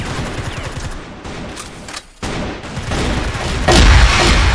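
Scar Light-S BaiHu rifle in CrossFire firing in suppressed, steady sustained bursts, close and loud, with a short gap before the shooting resumes and swells heavier at the end.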